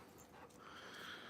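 A dog pants quickly and steadily close by during an evening outdoor grilling session, a soft breathy rhythm that runs through the whole short moment with no talking.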